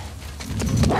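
A dog in The Last of Us Part 2, with a short burst of barking and yipping that grows louder toward the end of a brief moment, close and fairly loud.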